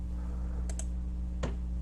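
Mouse clicks on a computer while selecting sketched circles in Fusion 360, a soft double click followed by a single click a moment later, close and quiet over a steady low hum.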